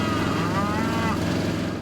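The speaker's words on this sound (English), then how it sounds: "These cows," Cattle moo on a farm, a drawn-out lowing call standing out against a steady, dense background of low rumbling noise throughout.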